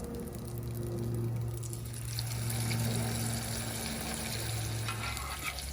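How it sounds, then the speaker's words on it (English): Green bean fritter batter hits about an inch of hot high-temperature olive oil, giving a steady sizzling, crackling hiss with a low hum beneath, close by and moderately loud, no voices. "Pour about 1/4 cup of mixed batter into the oil."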